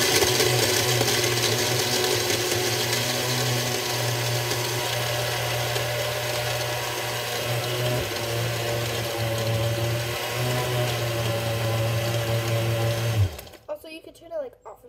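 A blender on medium speed blending a strawberry banana smoothie runs steadily with a loud, constant whirring hum, then switches off abruptly near the end, leaving a few faint clicks and knocks.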